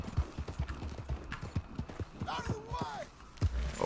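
Horse hooves in the video game Red Dead Redemption 2 clip-clop in a quick, uneven rhythm, with a brief whinny partway through and a voice murmuring faintly underneath.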